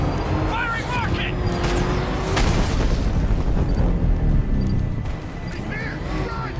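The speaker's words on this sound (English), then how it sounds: "Firing rocket!" A rocket fired in Batman Arkham Knight during a vehicle chase, with a loud sustained booming rumble of engine and blast noise under shouted voices.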